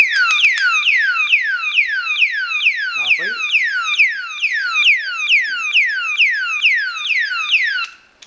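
A key-operated alarm device sounds a long run of rapid, piercing electronic chirps, each sweeping downward in pitch, repeating steadily for about eight seconds before cutting off, close and loud.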